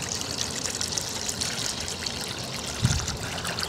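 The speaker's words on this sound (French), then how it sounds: "c'est simple de remplir d'eau." Water trickles steadily into a handmade clay olla buried upright in garden soil, a continuous close pouring and dribbling sound with a brief louder splash near the end, heard alone with no talking.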